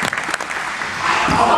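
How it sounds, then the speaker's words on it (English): Spectators at a dunk contest break into clapping: a dense, steady wash of applause that swells louder toward the end, with voices mixed in. "Let's give it a good clap, guys"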